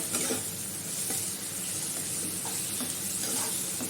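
Rohu fish masala sizzling in a pan as water goes in, a steady hiss with occasional scraping of stirring, close and quiet, no voices.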